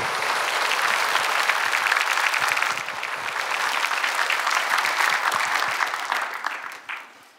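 A congregation at an evening healing revival service in a Seoul church gives warm, loud, sustained applause to welcome the pastor. It dips briefly midway and trails off at the end.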